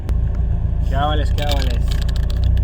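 A Volkswagen Golf GTI MK2 engine fitted with an aftermarket muffler runs with a steady, close low rumble throughout, while someone speaks briefly over it.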